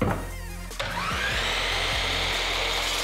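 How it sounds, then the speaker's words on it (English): A power saw makes a quick cross cut to square up wood ends, a sharp bite of the blade into the board followed by a loud sustained whining motor, close and alone. "Squaring up these ends is gonna be as easy as a quick cross cut on here."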